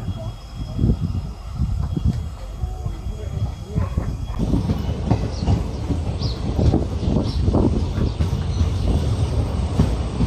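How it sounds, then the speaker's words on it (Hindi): A train rumbles past at Bagdogra railway station in West Bengal, with continuous rolling clatter and hissing, fairly loud and close, while someone speaks intermittently. "देखिएगा ट्रेन।"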